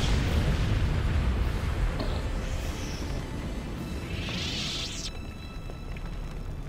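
Big explosion in the video game Star Wars The Clone Wars: Republic Heroes, a loud rumbling blast with a rising whoosh and trailing debris, surrounded by game effects and music.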